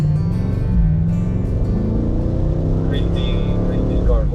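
A BMW M8 Competition coupe at speed on a track, its engine note rising and sweeping through the run with a steady roar and tire-and-wind noise, loud and close.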